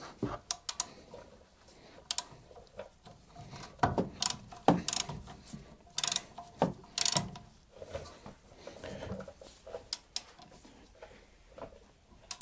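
A torque wrench tightens front brake bolts on a 2007 Ford Ranger 2.5 during a brake service, giving a series of close, sharp ratchet clicks in irregular bursts with brief pauses between.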